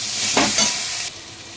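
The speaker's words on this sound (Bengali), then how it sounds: "নিয়ে পেঁয়াজগুলো ওর মধ্যে ঢেলে দেবো। দিয়ে একটু নাড়াচাড়া করে হালকা একটু আদা রসুন বাটা দিয়ে দিলাম" Onions with ginger garlic paste sizzle and fry in a pan for paneer pasta. A loud steady hiss carries a couple of scraping stirs and then drops to a quieter sizzle.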